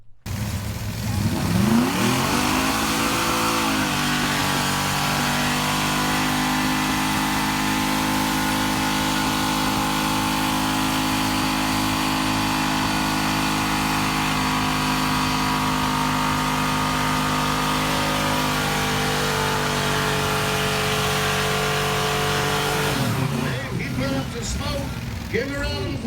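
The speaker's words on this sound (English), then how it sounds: "It's an older video from 2016-ish of a burnout with this car." A car doing a burnout, engine held at high revs for a long stretch, droning loud and steady with tire-spinning roar, then dropping off near the end.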